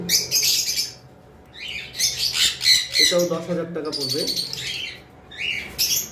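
Blue and violet opaline budgerigars in a cage let out loud, bright bursts of chirping and squawking while someone talks nearby.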